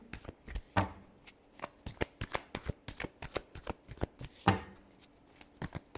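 Tarot cards shuffled by hand in a steady run of crisp, close riffling snaps and slaps with two louder riffle bursts, no talking.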